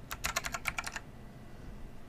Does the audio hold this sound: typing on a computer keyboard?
yes